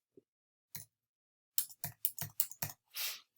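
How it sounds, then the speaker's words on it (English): Fingers type a short burst on a computer keyboard: a few quiet, crisp keystrokes, then a quick run of six or so clicks ending in a slightly longer key press, close and isolated. "we can just type"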